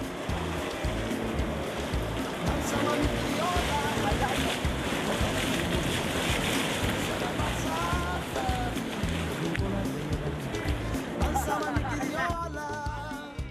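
Surf and rushing ocean water while surfing in Bali, a dense continuous wash of waves and wind, with background voices and music layered over it.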